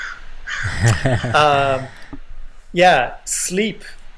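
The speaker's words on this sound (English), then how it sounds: "Oh, the crows are calling me." Crows caw in a series of loud, harsh, close calls, several in a row with short pauses between them, with talk in the background.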